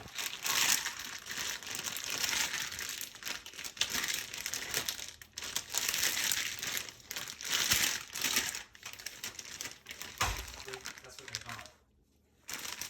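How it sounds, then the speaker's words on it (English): Continuous loud crinkling and crunching of a chip bag being squeezed, chips crushing inside in rough bursts, close up, ending in a brief silence. "after my chips are broken all the way up"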